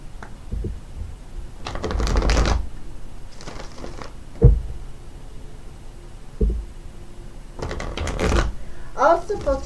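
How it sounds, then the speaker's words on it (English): Tarot cards being cut and shuffled by hand, giving several bursts of riffling and papery shuffling. A voice talks quietly in the background. "let's go ahead and cut these cards"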